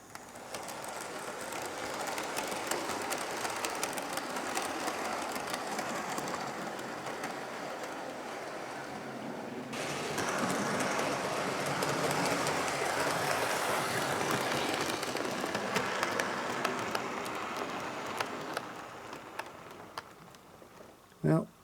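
An Adams O2 tank model locomotive running on a model railway's inner track, a continuous soft mechanical whirring and rattling of wheels on rail that grows somewhat louder midway, ending with a brief sharp knock.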